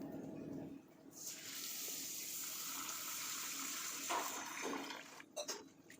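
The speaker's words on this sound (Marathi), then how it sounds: "आता ह्या ज्या डाळी आहेत त्या आपल्याला 2-3 वेळा पाण्याने स्वच्छ धुवून घ्यायच्या" Urad and moong dal are rinsed under running water, with a steady gushing, splashing stream that starts after a brief lull and runs fairly loud and close before breaking into a few sloshes at the end.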